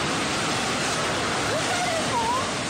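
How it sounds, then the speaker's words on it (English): Floodwater and mud from a landslide in Japan roar past in a loud, steady rushing wash with no break, wide and dense like a torrent sweeping debris along. "A wall of water and mud collecting everything in its way."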